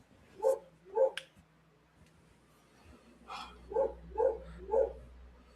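Medium dog indoors barking in separate loud woofs, two early and then a quicker run of four, with a door thud and low background hum in between.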